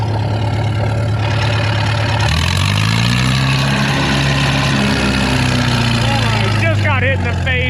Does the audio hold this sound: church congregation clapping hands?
no